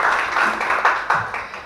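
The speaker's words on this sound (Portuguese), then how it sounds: "Vamos aplaudir o Senhor, queridos, mais uma vez." Church congregation applauding during a worship seminar, a steady wash of many hands clapping with a few louder accents.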